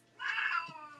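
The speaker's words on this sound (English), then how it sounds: "I'm sorry about my cat. She just woke up and she's in a mood or something." A domestic cat gives a single close, drawn-out meow that rises and then fades, about half a second long, in a quiet room.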